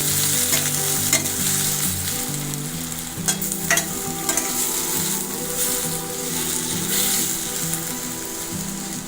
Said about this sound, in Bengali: আমার তেলটা গরম হয়ে গেছে। এর মধ্যে পেঁয়াজ কুচিটা ছেড়ে দিলাম।